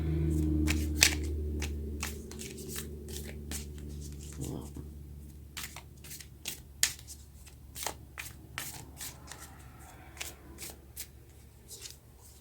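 Tarot cards riffle and snap in a long shuffle, then a card is drawn, with crisp papery bursts and flicks close by over a low steady background hum.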